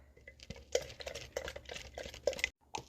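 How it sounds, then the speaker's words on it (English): A spoon stirring yogurt and half and half in a quart jar, giving soft, quiet scraping and clinking strokes in a short run that ends in a brief pause before one last tap. "Stir it up."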